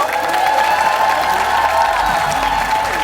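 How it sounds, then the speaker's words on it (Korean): A television studio audience claps for cheerleading world champions, a loud, even burst of applause sustained throughout, with faint crowd murmur beneath. "다시 한번 축하 박수로 환영해 주시고요."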